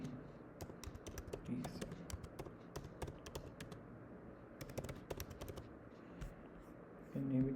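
Rapid, uneven tapping of a computer keyboard as a prompt is typed, clicks close and fairly quiet in bursts with short pauses, and a single spoken word passes briefly.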